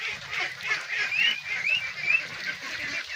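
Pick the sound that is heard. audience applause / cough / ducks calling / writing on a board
ducks calling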